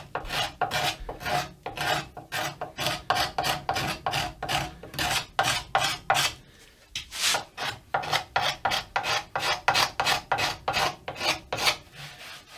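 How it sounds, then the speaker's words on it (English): A cabinet scraper shaving wood at the neck joint of a handmade guitar, with quick, repeated rasping strokes in a steady rhythm, loud and close, pausing briefly midway before the strokes resume. "Scraper is perfect tool for this."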